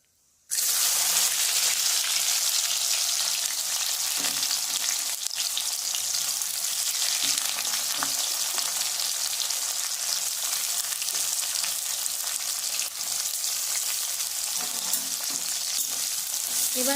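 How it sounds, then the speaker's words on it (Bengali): Whole cardamom and cinnamon with chopped onion fry in hot oil in a pan while mutton is being cooked. After a brief quiet start, a loud, steady sizzle holds evenly for about sixteen seconds with faint stirring underneath. "গোটা মশলা একটু ফুটে এলে পেঁয়াজ কুচি দিয়ে দেব।"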